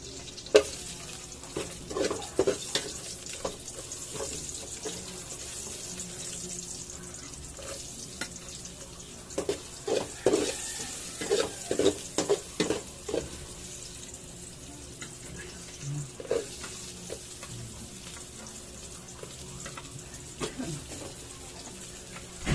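Jackfruit and crab being sautéed in oil in a pan: a low continuous sizzle with scattered clinks and stirring knocks, plus bursts of running water in the background.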